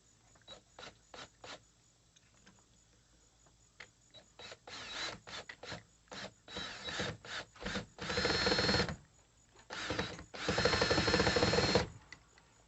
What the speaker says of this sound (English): Using this Black & Decker drill.